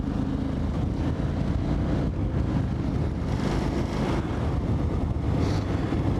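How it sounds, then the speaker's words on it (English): Steady, loud wind buffeting on a KTM 990 motorcycle riding through country lanes on a warm, humid day, a continuous broadband rush with low engine rumble underneath, no talking. "Oh, that's nice. Bit of breeze."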